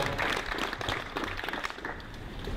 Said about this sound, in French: Je crois qu'on peut encore les applaudir un peu plus fort que tout à l'heure